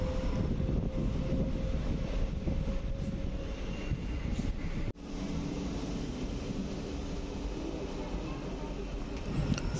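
Secunderabad–Siddipet DEMU train running, a steady loud rumble and rattle of wheels on rails heard from on board, with a brief dropout midway and no talk.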